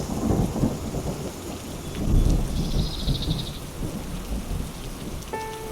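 Heavy rain pours steadily onto surfaces while thunder rumbles loudly, with a long deep roll in the middle, continuous and close with no voices.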